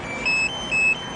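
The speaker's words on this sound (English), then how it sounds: "Fucking beeping. My remote start." Two short electronic beeps from a car's remote start system, sounding in quick succession over a steady background hum during a severe weather live stream.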